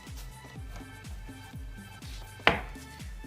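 Kitchen knife chopping a scallion on a cutting board in quick, steady strokes, about four cuts a second, close and crisp, with one sharper knock near the end.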